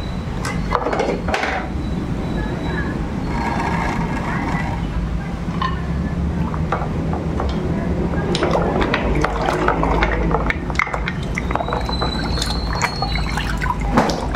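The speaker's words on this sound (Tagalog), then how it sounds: "lulubog nyo po ito sa tubig o kaya sa running water." Running water rinsing a carburetor during cleaning, splashing and trickling unevenly with drips and clatters of handling, fairly close, someone talking intermittently over it.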